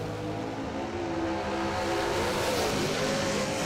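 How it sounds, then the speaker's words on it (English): A bracket drag race car engine at the line, a loud continuous rumbling drone that rises in pitch toward the end as the throttle is opened. "Things look good for Donovan as he gives the throttle a few whacks to go dead 2"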